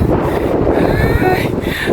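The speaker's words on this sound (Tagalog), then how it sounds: "sobrang sarap ng hangin dumadampi sa akin katawan" Steady wind gusting against the microphone with a rushing, rumbling roar, close and fairly loud throughout, with faint voices mixed in.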